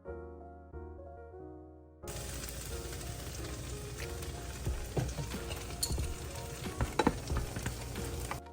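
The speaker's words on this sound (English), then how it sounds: "And I'm gonna add broth in there too." Broth poured into a hot pan sets off a loud, steady sizzle and bubbling fry that runs continuously with scattered pops and crackles, close up and alone.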